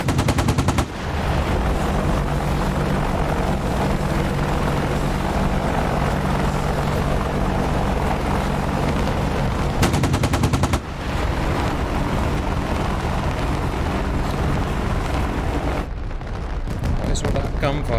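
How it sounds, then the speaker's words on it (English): Loud bursts of rapid gunfire crackle over a constant helicopter rotor roar in the flight simulator DCS, during a 2001 Afghanistan War battle of Tarinkot scenario, with brief speech mixed in. "gunfire? Where is that gunfire?"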